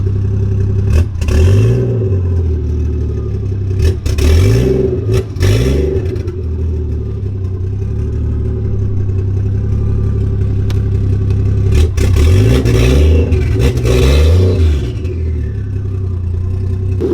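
Lexus IS300 with a swapped 1JZGTE engine idling, then revved in several sharp bursts that rise and fall back, loud and close with a steady rumble between blips.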